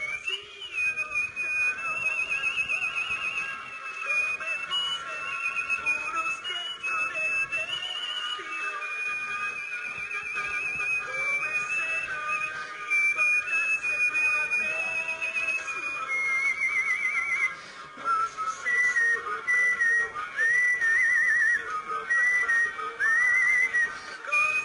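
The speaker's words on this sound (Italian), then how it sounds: "grazie alla nostra fischiatrice" A woman whistles a song live on stage at a Sanremo DopoFestival TV show, a clear, steady melodic whistle running continuously for the whole stretch with no talking over it.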